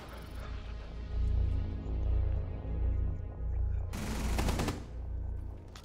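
Gunfire in the video game Rainbow Six Siege: rapid automatic bursts from two directions with a sharp, loud volley near the end, set against a low game background rumble.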